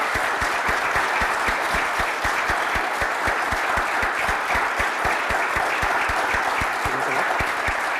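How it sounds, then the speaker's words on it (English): Audience applause welcoming home curling's Team Gushue at a premier's reception, with steady dense clapping and crisp individual claps sustained loudly throughout. "please join me in giving a round of applause to our very own Team Gushue"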